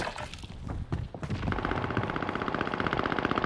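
Rapid automatic gunfire rattles in a video game shootout, starting with a few scattered shots and thuds, then settling into a sustained, loud burst of rhythmic shots with no talk.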